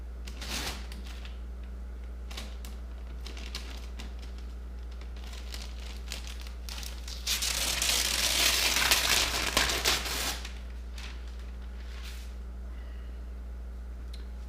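Masking tape is peeled off the body of a 1994 Ford F150 after bedliner spraying, giving a faint crinkling, tearing rasp that swells in one longer pull over steady background hum, with no voices.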